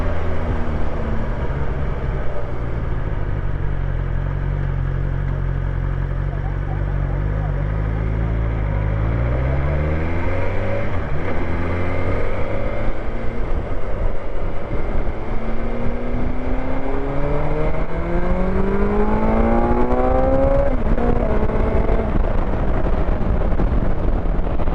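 A BMW S1000XR motorcycle accelerates hard while riding, its engine climbing through repeated rising sweeps as it shifts up through the gears, loud and close over steady wind rush, with no talking.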